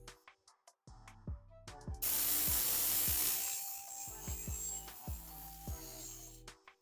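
A knife is sharpened on a belt sharpener: a short grinding hiss of about two seconds, set between a series of sharp clicks and knocks, close and fairly quiet.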